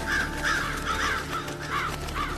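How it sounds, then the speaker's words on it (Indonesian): Several crows cawing near a tree in a film scene, harsh repeated caws in an uneven rhythm over a steady low hum, moderately close and with no talk. "Kyle memandang ke arah pohon yang terdapat burung gagak berterbangan"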